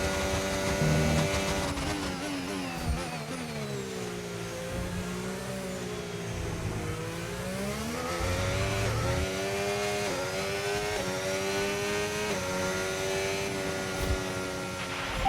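Formula 1 car engine in the F1 25 racing game at the Japanese Grand Prix, heard on the slow lap after the race: a steady, close engine drone whose pitch rises and falls continuously through the whole stretch, with no voices.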